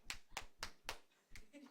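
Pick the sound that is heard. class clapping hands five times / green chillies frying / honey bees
class clapping hands five times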